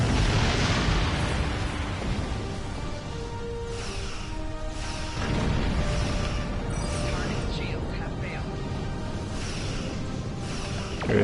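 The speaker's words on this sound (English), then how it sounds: "A torpedo." Torpedo exploding in Star Trek Online during a fight against the Borg, a booming blast followed by repeated eruptive bursts and rumbling over a dense game soundscape.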